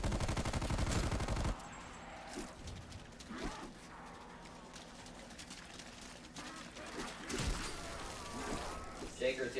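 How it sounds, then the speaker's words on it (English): Light machine gun in Call of Duty: Black Ops Cold War firing a loud sustained burst, followed by scattered shots and game noise under a talking voice. "Light machine gun equipped."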